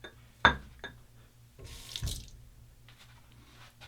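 A tap runs briefly for a quick rinse during shaving, with a sharp knock, short bursts of running water and faint drips, quiet and close.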